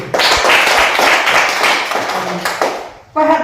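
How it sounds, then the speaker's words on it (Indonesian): A classroom of pupils clapping their hands together, a dense burst of close applause that fades out, followed by a brief voice at the end. "Iya, tepuk tangan."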